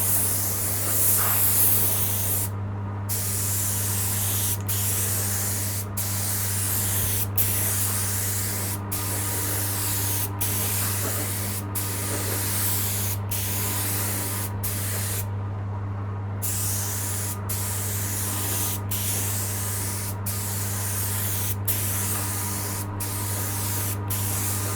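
Clear coat is sprayed onto a guitar body in short repeated bursts, each hiss cut by brief gaps, over a steady low mechanical hum from a compressor or extraction fan.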